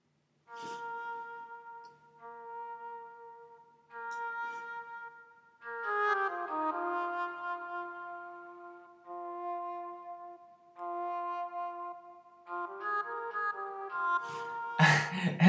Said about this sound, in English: I like the flute kind of sound